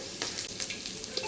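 Garlic frying in oil in a pan gives a short, close crackling sizzle with a few sharp pops and stirring scrapes, and nobody is talking.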